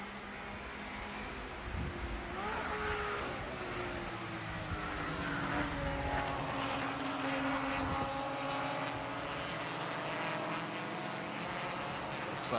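Race cars at Road America accelerate into turn one, a continuous loud roar of several engines with rising and falling pitch sweeps as the field passes, no talk heard.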